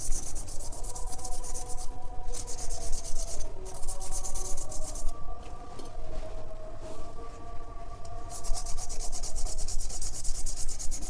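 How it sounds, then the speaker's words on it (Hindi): Continuous back-and-forth rubbing of sandpaper against enamelled copper motor winding wire on a commercial cooler motor, loud and close in steady strokes with short pauses, over a faint whine. "इसको भी रगड़ ले रहे हैं चारों को"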